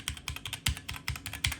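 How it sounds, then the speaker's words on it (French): Typing on a HyperX mechanical keyboard fitted with red switches: a fast, steady run of close, crisp keystrokes with deep bottom-out thocks. No one speaks over the keys. "C'est vraiment un clavier avec des red switches."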